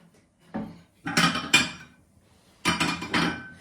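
Dishes clink and clatter in a home kitchen as they are taken out, with a few sharp knocks in two separate clusters, close and moderately loud.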